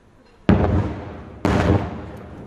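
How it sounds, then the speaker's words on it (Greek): Two sharp, loud explosions about a second apart, each with a rumbling tail, near the Lebanon border in northern Israel, under a kilometre from Lebanon, on the road to a shelter. "ακούγονται νέες εκρήξεις"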